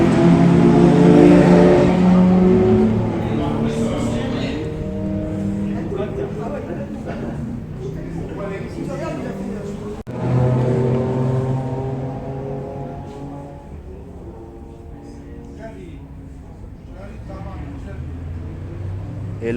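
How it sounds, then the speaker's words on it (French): Porsche sports cars lapping a circuit at a sport and collection car event, engines revving and passing with rising and falling whines, one loud near pass at the start and another around midway. "il y a des Porsche qui tournent"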